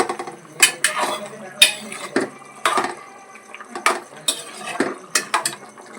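Country chicken curry being stirred in a pot, a spoon scraping and clinking against the metal in a steady series of short scrapes, close and moderately loud, with no talk.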